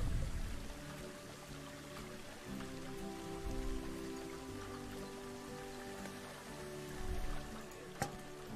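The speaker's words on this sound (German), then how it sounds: "Haben wir hier einen kleinen Wasserfall noch gebaut." A small waterfall built in the zoo game Planet Zoo, a steady rushing and splashing of water that runs continuously and fairly evenly throughout, with no talk over it.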